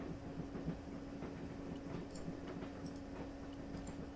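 Inside a train in the video game Broken Sword, a low, faint rumble of the running carriage rolls on steadily, with soft rattles and a thin hum beneath it.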